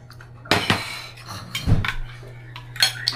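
Plates and dishes clink together in a home kitchen: a handful of sharp, close ceramic knocks and clatters spread irregularly over a few seconds, with no talk.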